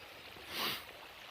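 Creek water flowing at a crossing on the Pacific Crest Trail, a faint steady rushing hiss that swells briefly and then settles back, with no voices.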